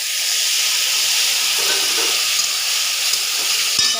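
Turmeric and chilli powder soaked in water sizzle loudly in hot oil after fried garlic, a steady close hiss that continues without break.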